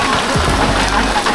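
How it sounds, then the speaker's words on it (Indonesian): Dense hiss of rain falling and pattering on surfaces close by, steady throughout with a low rumble underneath. "Sampai sini hujan."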